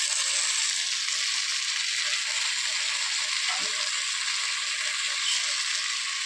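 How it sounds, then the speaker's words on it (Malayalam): Mango and tomato go into a pan of ivy gourd frying for a Kerala-style curry, giving a steady, bright sizzle throughout with a soft stirring scrape midway. "ഈ സമയത്തേക്ക് നമ്മൾ ഈ എടുത്ത് വെച്ചിരുന്ന മാങ്ങായും തക്കാളിയും കൂടി ഇതിലേക്ക് ചേർത്ത് കൊടുക്കും."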